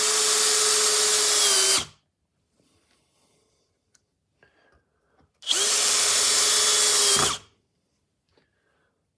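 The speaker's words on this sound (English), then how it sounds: "Start off with a drywall screw." A Bosch GSB18V-490 cordless hammer drill drives drywall screws in two loud bursts of about two seconds each, a high motor whine that stops sharply, with quiet handling clicks in the gap between.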